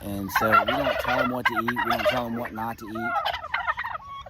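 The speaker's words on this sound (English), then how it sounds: "We've got turkeys right here 2 inches from me." Turkeys gobble loudly and repeatedly just inches away on a farm, rapid warbling calls overlapping one another, with someone speaking beneath them.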